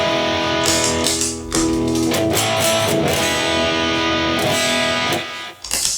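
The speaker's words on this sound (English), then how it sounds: "So let's go over to the DS-1 by itself with the humbuckers." Electric guitar with humbucker pickups played through a modded Boss DS-1 distortion pedal, a loud, sustained, saturated distorted tone with a few strummed chords and brief pauses, played alone without talk.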